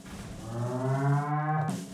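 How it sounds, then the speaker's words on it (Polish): A single long, loud cow moo from a herd of cattle in the Deer Simulator video game, rising and holding before cutting off sharply near the end. "tu mamy, tu mamy krówki"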